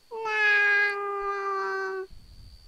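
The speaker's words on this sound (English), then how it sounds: "The kitten meows after her," A kitten gives one clear, loud meow, held steady for about two seconds before cutting off, close by against near silence.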